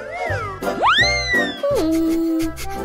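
A chocolate kitten toy gives off a cartoonish, rising meow over music, with a few gliding tones standing out clearly and loudly.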